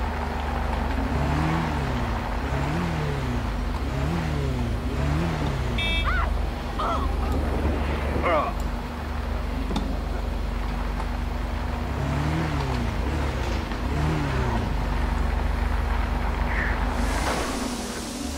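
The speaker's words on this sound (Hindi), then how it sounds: "इतनी सारी गाड़ियों की रेस है क्या?" Cars racing in GTA 5, several engines droning and revving in rising and falling waves, loud and steady throughout with a brief sharp whine midway.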